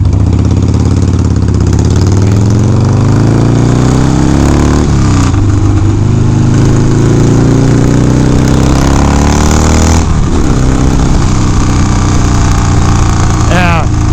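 A Harley-Davidson Sportster 1200 motorcycle on the road, its engine droning steadily and rising and falling in pitch as it accelerates and shifts, loud and close for the whole stretch.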